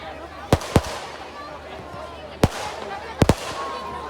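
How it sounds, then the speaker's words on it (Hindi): Rocket fireworks bursting at a Dussehra Ravan Dahan in Abu Road: five sharp bangs in three groups, two close together early, one alone midway and a quick pair near the end, over a steady crowd murmur. "इसमें आतिशबाजी में रॉकेट भी है।"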